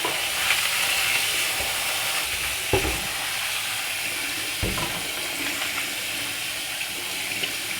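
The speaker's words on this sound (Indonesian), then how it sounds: "Nah setelah dibilas seperti ini ya, untuk menghilangkan debu-debunya, kemudian kita tiriskan." Raw peanuts are rinsed in water in a bowl, giving a continuous splashing and swishing wash with a few sharper knocks, close and steady throughout.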